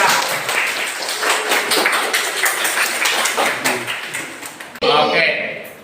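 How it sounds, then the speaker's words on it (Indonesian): Students in a classroom applaud a classmate during a mathematics lesson. Dense, loud clapping fills about five seconds, then a brief different noise follows. "tepuk tangan buat Faisal."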